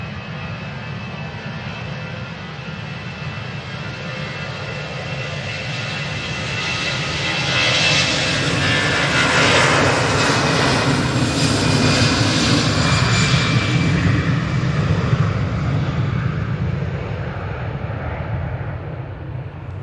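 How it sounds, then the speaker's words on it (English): An Easyjet airliner takes off from windy Manchester Airport bound for Paris, its engines a steady, broad roar that swells louder midway and holds strong before easing slightly, with wind buffeting the microphone and no voices. "And that Easyjet A380 is off to Paris"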